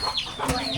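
Chickens in a rural village on the Ho Chi Minh Trail in Laos cluck with short, nasal calls. Several calls come close together over a steady outdoor background.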